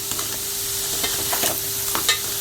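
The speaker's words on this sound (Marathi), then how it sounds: "वांगी पण साफ केलेले टाकूया. आपण चांगलं परतून घेऊया." Brinjal and crab stirred through curry masala in a pan, a steady hiss of sautéing with several soft scraping strokes of the spoon scattered through, close and moderately loud, with no voices.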